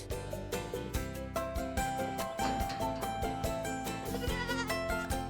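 Goats bleating in a dense, overlapping chorus on a farm with about 250 adult goats, many calls layered continuously and fairly close, with no pauses between them.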